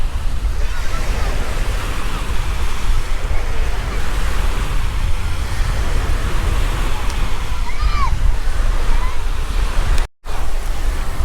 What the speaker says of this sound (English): there's some waves this time. The water's not calm like it was last time.